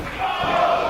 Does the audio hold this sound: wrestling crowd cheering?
yes